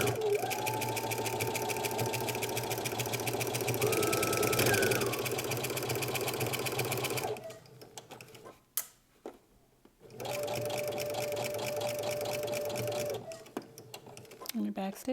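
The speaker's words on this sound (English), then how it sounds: "we're going to go to the sewing machine, and we're going to sew a stitch from one end to the other" A sewing machine runs a seam across pajama fabric, stitching in a fast even whir for several seconds, pausing briefly with a few clicks, then stitching again in a second steady run.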